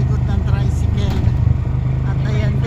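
Motorized tricycle engine heard from the rear seat at night, a low throbbing idle-and-run rumble that is steady and close, with people talking over it.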